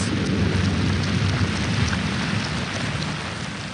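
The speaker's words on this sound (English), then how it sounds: "Finally, the rain arrives in torrents." Heavy torrential rain pours down in the desert with rumbling thunder, a dense, steady roar with low booming underneath throughout, close and loud.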